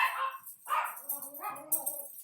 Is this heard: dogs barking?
yes